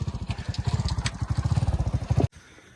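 A cousin brings out a motorcycle beside a river dam, its engine chugging in a steady rapid pulse, close and fairly loud, until it cuts off abruptly near the end.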